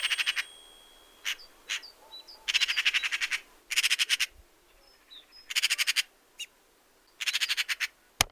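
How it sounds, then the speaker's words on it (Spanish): Common magpie calling in Iberia, repeated bursts of harsh rapid chattering rattles separated by short pauses, with a few faint distant chirps between them, fairly close and with no voices. "La urraca común"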